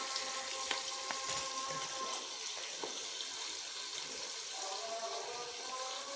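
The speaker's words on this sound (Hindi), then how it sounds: "ये देख, इन्हें अब मैं एक साथ फ्राई करूँगी।" Food frying together in a pan, with a steady broadband sizzle running through the whole clip and scattered brief clinks and stirring sounds. No one speaks.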